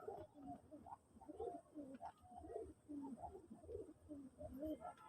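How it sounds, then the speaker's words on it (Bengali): A pair of red pigeons coo repeatedly in soft, rolling low calls, one after another with brief pauses, close by and fairly quiet. "অসাধারণ এক জোড়া লাল কবুতর"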